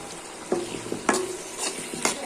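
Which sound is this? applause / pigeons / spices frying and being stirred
spices frying and being stirred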